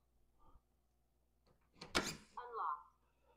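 TCL D1 Pro palm vein smart deadbolt lock, a short motorised whir and clack of the bolt moving, quiet and close, after a faint click.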